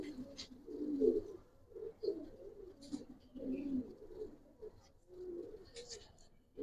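Racer pigeons of the Giribaz breed coo in soft, low repeated phrases, several overlapping rounds of close cooing across the stretch with light background chirps.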